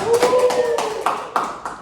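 A classroom of students claps for a classmate named Citra, a short burst of hand claps at close range with a tonal voice or hum running through the first part.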